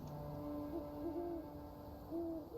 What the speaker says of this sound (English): You can hear owls.